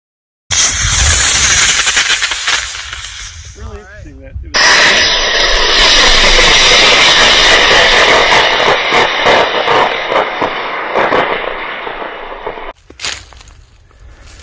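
An Estes Loadstar model rocket lifts off on an E11 motor with a loud, harsh roaring hiss that starts abruptly, cuts briefly, then surges again and holds for several seconds before dropping away.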